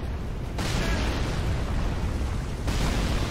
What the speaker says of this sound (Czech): Tik tak tak, 10, 5, 4, 3, 2, 1. Boom. Exploze.